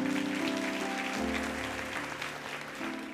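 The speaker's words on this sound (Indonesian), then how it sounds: "Kasih tepuk tangan untuk Tuhan Yesus." A church congregation applauds during a sermon, a fairly soft, even wash of clapping with a sustained musical tone held underneath and gradually easing off.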